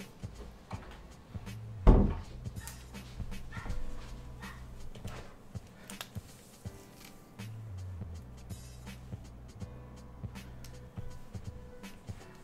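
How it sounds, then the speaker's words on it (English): A door is closed indoors with one sharp knock early on, while a dog whimpers and pants softly nearby against a low background hum. "I'm gonna close the door, hold on."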